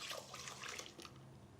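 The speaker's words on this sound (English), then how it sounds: "Now it's time to add the hot milk." Hot milk is poured into a custard mixture of eggs, a steady liquid trickle and splash heard close up and fairly quietly for a brief moment.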